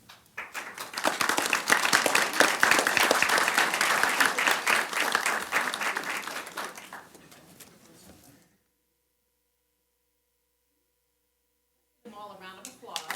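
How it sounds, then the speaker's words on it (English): Audience applause at a school board meeting, a dense burst of clapping from a seated crowd that swells, holds for several seconds and fades out, followed by silence and a brief voice. "All a round of applause."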